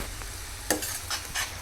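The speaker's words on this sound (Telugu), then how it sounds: "ఇప్పుడు మనం మిక్సీ పట్టుకున్న టమాటా ప్యూరీ కూడా వేసేసుకుందాం" Tomato puree sizzles and fries in a pan while a spoon stirs it, giving soft scraping strokes over a steady low hiss, fairly quiet and close with no voices.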